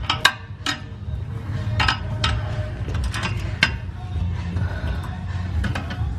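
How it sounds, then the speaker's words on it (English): Exhaust midpipe clamp on a 707 hp Dodge Hellcat being loosened with hand tools, giving close, irregular metallic clinks and ratchet-like clicks over a low rumbling background. "You just gotta loosen up the clamp."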